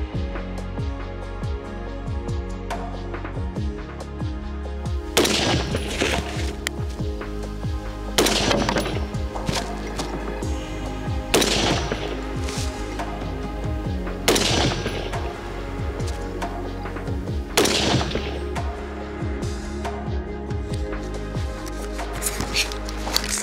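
AR-15 type carbines with 16-inch barrels fire at a 300-metre range in bursts of sharp, loud shots, each followed by a long ringing echo, with groups of rapid cracks spread evenly through a steady outdoor hum.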